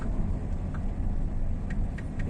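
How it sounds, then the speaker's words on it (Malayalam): Slow-crawling traffic in a jam after a road accident makes a low, steady engine rumble from inside a vehicle, with a few faint higher tones above it. "വണ്ടികളൊക്കെ ഇഴഞ്ഞിഴഞ്ഞാ പോകുന്നത്."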